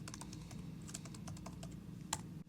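A computer keyboard is typed on in a quick burst of soft, close key clicks. The clicks are quiet and are followed by a slightly louder final keystroke.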